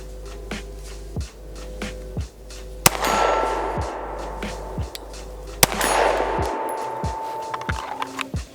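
A Zev OZ9c pistol fired at a steel target 45 yards away, with several sharp shots spaced a second or so apart, each followed by a ringing metallic clang, over a low steady hum.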